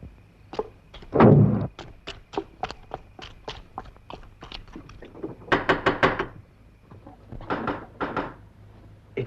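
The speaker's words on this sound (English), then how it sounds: "She'll only go on knocking." Knocking on a door in a 1950s domestic setting: a long run of sharp raps in uneven bursts, some loud and close, some softer, with pauses between clusters.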